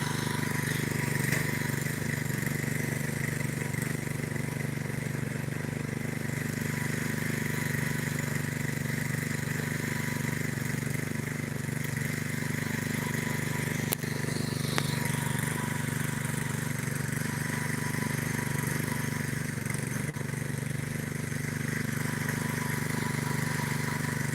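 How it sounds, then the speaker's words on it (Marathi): A tractor engine running a rotavator drones steadily and unbroken, close by, with a constant low rumble and mechanical whine and no talking. "बघा हे ट्रॅक्टर आहे"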